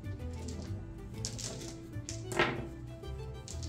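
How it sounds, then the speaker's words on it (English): A deck of cards shuffled by hand during a Fool's Blade tabletop card game, with soft riffling taps and flicks, close and quiet against a low background hum. "Or I can just shuffle through it."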